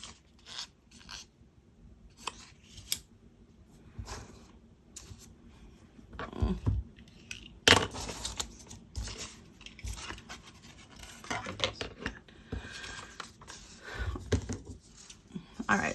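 Scissors cutting out paper Thanksgiving decorations, with scattered close snips and rustling paper over a low background, some louder cuts standing out amid quiet handling sounds.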